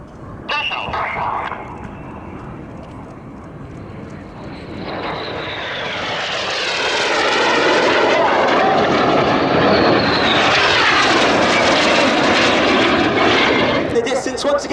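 Red Arrows jets performing an airshow display at Duxford, a loud engine roar that builds from a distant whine into a sustained sweeping rush as the aircraft pass close, with a commentator talking over it.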